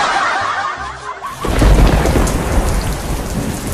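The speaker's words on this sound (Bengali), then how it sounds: "আল্লাহর বৃষ্টি, সকালে বৃষ্টি, দুপুরে বৃষ্টি," A cartoon storm scene: after a short quiet stretch, heavy rain and a deep thunder rumble burst in loudly and continue as a dense downpour.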